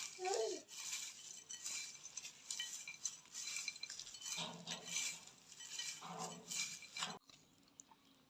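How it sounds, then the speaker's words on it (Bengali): Quiet, close scraping and soft clinking come from fried shredded potato being tossed together with peanuts, chili powder and dried fish powder in a bowl, in irregular bursts with a few faint rustles. "এবার ভালো করে মিশিয়ে নেবো চিনা বাদাম দিয়ে আর আলু ঝুড়ি ভাজা দিয়ে"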